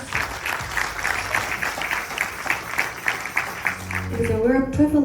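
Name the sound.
audience applause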